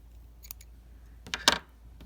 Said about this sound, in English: and then I can cut that tail